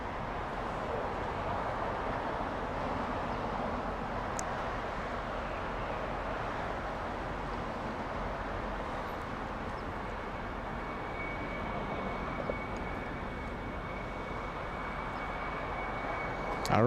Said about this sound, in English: the Qantas special flight is touching down right now